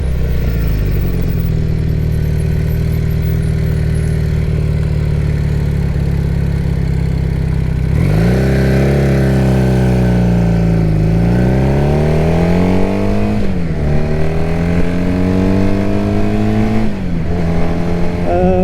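A 1978 Honda CB400T motorcycle engine hums steadily while riding, then revs up and down through several rising and falling gear changes, loud and close, with no talking.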